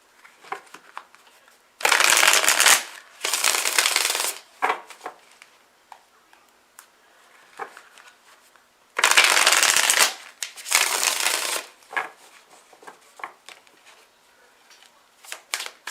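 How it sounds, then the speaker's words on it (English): A tarot card deck is shuffled by hand in two separate bursts of crisp riffling and flicking, each lasting a couple of seconds, with soft handling clicks and rustles between them in a quiet room. "let's shuffle up some cards and see if I can get a little bit more clarity."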